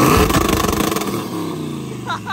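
Twin-turbo Chevrolet Silverado truck engine revs hard and close, with a rapid, pulsing roar that fades into a lower rumble, while people talk over it.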